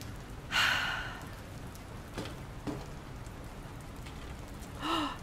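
Steady, hissing rain falls throughout a scene in the video game Dr. Langeskov, a soft even wash broken by a few breathy sighs from the player, with no talking.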